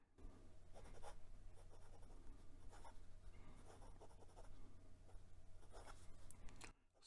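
A Wing Sung 601A fountain pen with a steel fine tubular nib writes on 90 gsm Clairefontaine paper, quiet close scratching strokes in bursts with short pauses, no talking.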